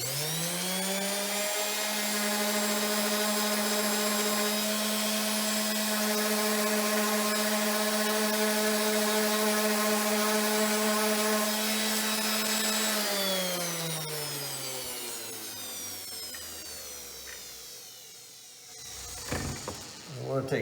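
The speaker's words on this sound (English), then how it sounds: "Let's see if we can use the orbital sander and" Orbital sander on wooden trim lumber in a lodge kitchen, a steady high buzzing whine held for about thirteen seconds before winding down, followed by faint handling noises.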